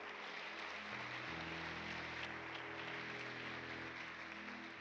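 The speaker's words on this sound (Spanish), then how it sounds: "Fuerte ese aplauso a Dios, vamos." A church congregation claps together in worship, a sustained wash of applause that holds steady at moderate distance, with sustained musical tones from instruments underneath.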